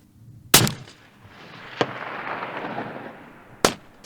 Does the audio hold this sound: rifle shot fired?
yes